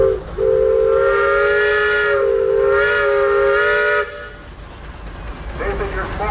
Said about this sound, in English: It's a 1912 75 horsepower steam engine.